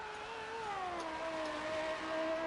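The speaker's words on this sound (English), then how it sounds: "They do sound nice, these cars, though." Racing cars on a track at the Baku round of a racing series, a steady, fairly faint engine tone that drifts slightly in pitch as if passing at a distance, with no one speaking.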